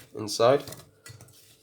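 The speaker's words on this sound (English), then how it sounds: "I'm going to take my saucepan now, and I'm going to put the potatoes inside" Sliced potatoes clatter into a metal saucepan in a home kitchen, a few quick close knocks and scrapes followed by fainter settling sounds, with no talking.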